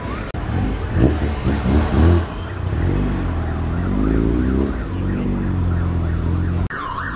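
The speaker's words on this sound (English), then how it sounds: "Something with a siren going past." A siren on a passing vehicle, heard at a 1980s classic car show, rises and falls over steady traffic noise, with a wailing sweep clearest near the end.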